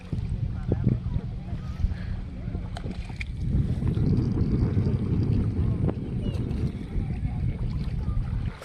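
A small boat dragged through a flooded paddy field in a village, water swishing and churning that grows louder and steadier partway through, with wind noise and people talking nearby.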